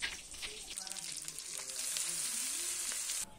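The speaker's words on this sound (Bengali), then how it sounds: "এখন এই মাছ ভাজার মধ্যেই এই কেটে নেওয়া শাকগুলো দিয়ে দিব" Chopped khesari greens are added to a pan of fried fish and sizzle in hot oil with a steady crackle, and stirring is heard, with no talking.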